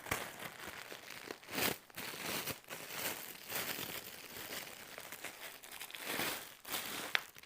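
Scissors cut through two layers of stiff wreath mesh, giving continuous crinkling and rustling with a few louder crunchy snips, close and fairly quiet without speech.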